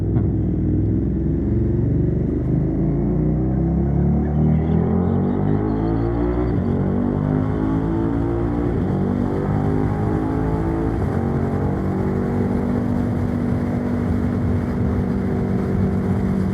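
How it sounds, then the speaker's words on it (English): A 2018 KTM Super Duke 1290 R with a big 1300cc V-twin roars steadily while riding, its engine pitch rising through the gears, loud and close with wind noise. "these are big 1300cc V-twins, so the quick shifter isn't quite as buttery as some of these 4-cylinder stuff"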